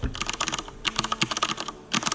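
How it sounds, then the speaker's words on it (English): Fingers type fast on a Rosewill RK9000V2 mechanical keyboard, close and crisp, a quick clatter of key clicks with a short pause before the burst resumes. "The mechanical keyboard sounds better."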